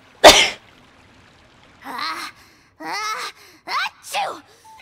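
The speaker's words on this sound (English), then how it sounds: "Achoo!" A game character sneezes once, loud and close, in Genshin Impact; a short broad burst opens the clip, followed by several stretches of voiced speech from characters afterward.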